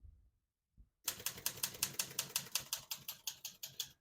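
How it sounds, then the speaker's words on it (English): A 1973 Olivetti Lettera 32 portable typewriter types after a brief quiet, a close, even run of about fifteen crisp key strikes in steady rhythm. "all the keys type nice and none of them skip or stick"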